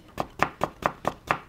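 Knife chopping a carrot on a cutting board while vegetables are prepared for japchae rice, six sharp, evenly spaced chops close by with no talk.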